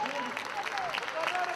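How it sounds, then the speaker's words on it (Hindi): An audience at a mushaira claps continuously through a short stretch, with a voice talking over the applause. "भरपूर तालियां, क्या कहने"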